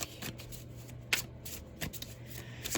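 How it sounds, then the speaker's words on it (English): A deck of tarot cards being shuffled close by: soft papery riffles and slides with a few sharper flicks, repeated in uneven bursts over a faint steady hum. "Sorry, I'm trying to mix these cards up a little bit."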